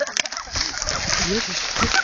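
A person steps into water outdoors, producing a short splash and sloshing, with excited voices talking over it close by.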